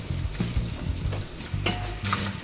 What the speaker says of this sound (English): go ahead and add in your pork